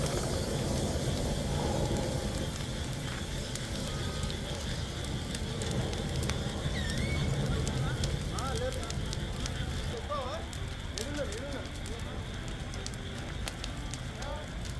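Large blaze after a private travels bus collided with a container lorry near Nandyal, crackling and roaring steadily throughout, with faint distant voices beneath.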